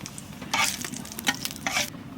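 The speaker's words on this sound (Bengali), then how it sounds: "এক চামচ ঘি দেবো ঘির উপর দিয়ে দেবো শুকনো লঙ্কা জিরা" Dried red chillies and cumin seeds sizzling in a spoonful of hot ghee for a dal fry tempering, with close, crackling bursts of frying and stirring noises over a steady low hiss.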